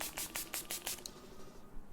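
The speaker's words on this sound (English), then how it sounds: "Now just to set everything in place, I'm just going to be taking the BYS Makeup Setting Spray." BYS makeup setting spray spritzed about six times in quick succession, close and crisp, followed by a quiet pause.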